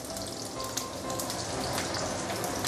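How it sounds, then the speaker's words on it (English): Pork chars in a hot pan for braised dried bean curd, giving a dense, steady close sizzle with tiny crackling pops throughout. "you want to add a little bit of flavor by charring the pork itself"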